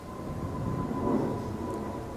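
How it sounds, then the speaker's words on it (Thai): An airplane flies near an airport over open farmland, a steady distant rumble with a faint high whine that swells slightly and then eases. "ได้ยินเสียงเครื่องบินอยู่"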